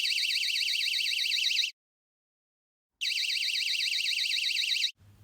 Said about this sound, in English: These alarms give off a very loud warning sound at 95 decibels